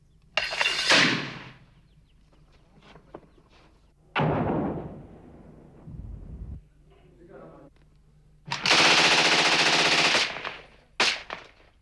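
Rebel gunfire and heavy weapons pounding a government position in a stadium during fighting in Rwanda in 1994, with loud bursts and booms at intervals, some distant and some close, between quieter stretches with a voice speaking.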